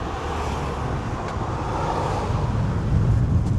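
Strong wind on a bridge over the Danube buffeting the microphone in a steady, heavy roar, with a faint hum of traffic underneath and no voices.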